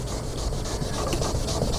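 Sandpaper, a small pad made for the job, rubs across a car headlight lens during restoration, giving a steady, close rasping scrape with a gentle back-and-forth rhythm and no voices.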